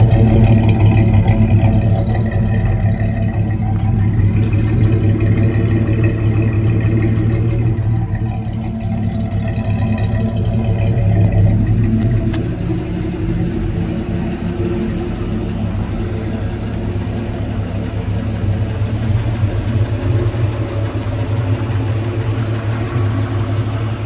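A truck engine fitted with a new intake and exhaust runs steadily close by, a loud even idle rumble that holds for the whole stretch with a slight dip partway.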